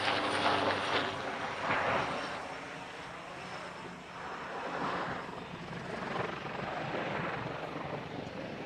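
A TAI Gokbey helicopter flies a display at the Farnborough International Airshow 2024, its rotors and engine a continuous, throbbing roar that swells and fades slightly as it passes. No voices are heard.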